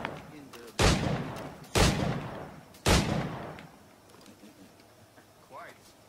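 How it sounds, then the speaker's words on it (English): Three loud pistol shots ring out at spaced intervals in Assassin's Creed IV Black Flag, each with a booming tail, followed by quieter ambience and a brief voice. "Pull off a few shots if you like."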